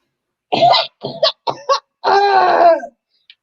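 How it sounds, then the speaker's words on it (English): Several sharp, close coughs come in quick bursts, ending in a longer, rough coughing fit; no talking. "You're coughing like a lot."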